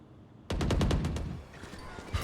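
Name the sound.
gunfire in a video game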